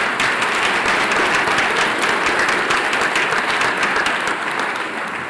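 A school academic excellence awards audience claps heartily for its forensics award winners, a loud, steady wash of many hands sustained throughout and tapering slightly at the end.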